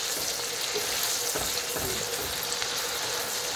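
Finely chopped speck bacon fries in a pan with fat and oil, giving a dense, even crackling sizzle that stays loud and close throughout.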